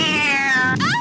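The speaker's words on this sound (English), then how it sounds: "she finds this piece of the boat, and gets a literal cat jump scare." A cat's loud, drawn-out meow used as a jump scare in an 80s movie, a single close yowl rising sharply in pitch at its end.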